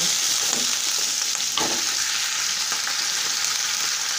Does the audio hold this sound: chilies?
yes